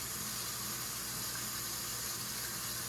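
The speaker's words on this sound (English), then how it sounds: "This is diced tomatoes that I am rinsing off, just like I did the other cans." Tap water runs steadily over a can of diced tomatoes being rinsed at a kitchen sink, a continuous close splashing hiss with no talking.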